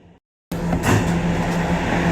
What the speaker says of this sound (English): This is a Norwood-205th Street bound D train.